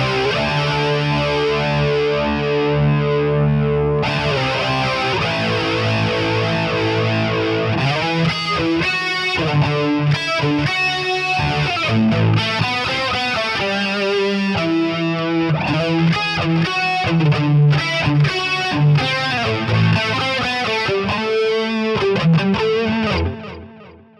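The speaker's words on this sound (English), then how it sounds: "We could try like a chorus in there for fun." Electric guitar run through a chorus effect in Amplitube 5, loud and distorted, playing sustained chords that move into fast strummed and picked rhythmic passages, with a shimmering doubled tone, alone without talk.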